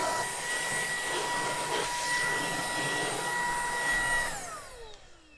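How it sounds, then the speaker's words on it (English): A cordless vacuum cleaner runs steadily on a boat deck sucking up crumbs, a close, continuous whining drone with a high motor tone that winds down and fades as it switches off near the end. "Going to use a cordless vacuum here"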